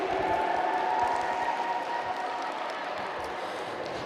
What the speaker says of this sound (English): Give a round of applause for your NSOs